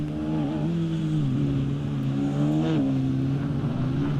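A Porsche GT race car's engine during a Mobil 1 GT Challenge race at Monza, a loud, steady droning roar with small dips and rises in pitch as the car runs.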